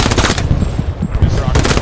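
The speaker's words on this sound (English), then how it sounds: "I just got shot from the side." Machine-gun fire in the World War II shooter Hell Let Loose, a loud, close stream of rapid rattling shots nearly continuous across the moment, with a brief lull in the middle.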